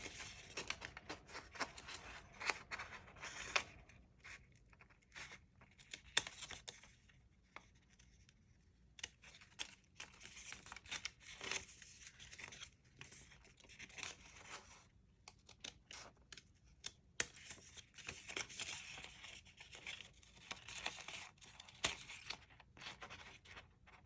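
Scissors snip and trim small pieces of wrapping paper while shaping a paper gift bow, giving repeated short crisp cuts and rustling paper at close range, with no talking.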